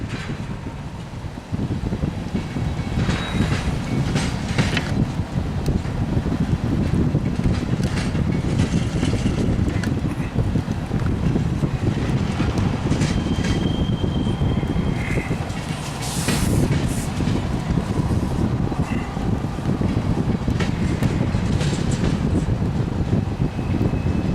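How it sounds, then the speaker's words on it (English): A northbound Norfolk Southern freight train with four locomotives passes in the rain, a loud, steady rumble and hiss that fills the whole stretch, with faint squeals and clanks on top. "Comes that northbound Norfolk Southern rolling around the bend down there."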